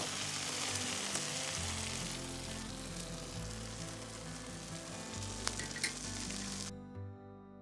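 Food sizzles loudly in a frying pan over an outdoor fire, a continuous close crackle with a few clinks from stirring, stopping abruptly near the end.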